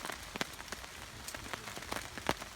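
Morning rain falling on woodland and a tarp over a hammock in late autumn, a soft steady patter with scattered louder drops tapping close by.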